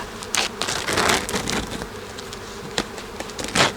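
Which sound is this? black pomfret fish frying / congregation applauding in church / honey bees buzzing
honey bees buzzing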